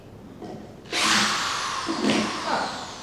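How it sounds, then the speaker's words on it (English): A power drill removing a screw whirs up suddenly and runs in a steady high whine for a couple of seconds, close at hand, with a brief change in pitch. "Just steady the drill, put a little pressure on it, pull the trigger, and it'll come right out."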